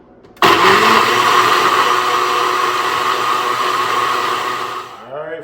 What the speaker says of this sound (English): So let's go ahead and we're gonna blend it up.